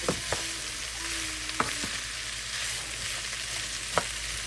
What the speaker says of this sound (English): I want the heat to be as high as possible because now I want the onion to get caramelizing